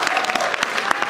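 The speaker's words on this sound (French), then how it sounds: "Applaudissez-le." An audience at a slam poetry awards ceremony in Marseille claps loudly and densely, a brief continuous burst of applause close by.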